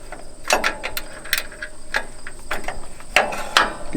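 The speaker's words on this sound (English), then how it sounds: "So we're going to get our 15 mil wrench out," A 15 mm wrench works the spring bolts on a MacDon FD1 header, giving a series of close, sharp metallic clicks and knocks at irregular intervals over a low background hum.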